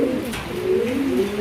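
A pair of black magpie pigeons coo with soft, throaty rolling calls, close and steady for a moment with no talking.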